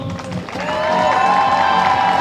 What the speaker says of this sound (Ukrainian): Привітаємо гучними оплесками!